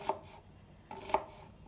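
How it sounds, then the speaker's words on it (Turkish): Two quick knife chops strike a cutting board while chopping a dry onion, close and crisp, separated by a short pause, with quiet room noise between. "Yemeğimize soğanımızı yemeklik doğrayarak başlıyoruz"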